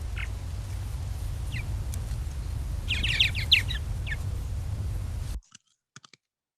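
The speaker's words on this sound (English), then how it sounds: "The purple martin." Purple martin calls in a backyard: several short, bright chirps and gurgling notes scattered over a steady low background rumble, with a brief cluster in the middle, then near silence with a few faint clicks at the end.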